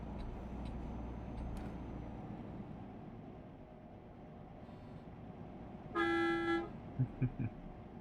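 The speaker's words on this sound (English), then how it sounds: "If I hear a honk at me, I honk back." A truck horn in the TruckersMP driving game sounds one loud sustained honk of about half a second, then a few short toots, over a steady engine rumble.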